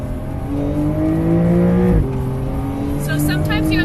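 Porsche 992.1 Carrera S accelerating on the APEX Motor Club race track, the engine note climbing steadily, dipping at a shift, then rising again, loud and close from inside the car.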